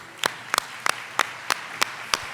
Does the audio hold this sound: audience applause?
yes